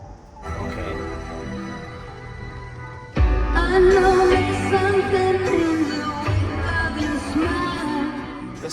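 A car radio in a 2014-or-later Toyota Tundra fitted with an HD touch-screen Android navigation head unit plays music, softer for the first few seconds, then swelling into a full, loud, steady stream.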